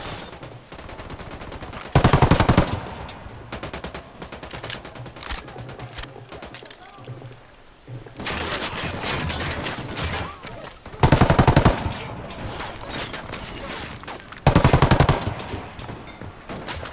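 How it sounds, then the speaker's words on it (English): Heavy automatic gunfire in the tactical shooter Ghost Recon Wildlands, with loud sustained bursts of machine-gun fire recurring every few seconds over a continuous background of combat noise. "Somebody's gunning for him now."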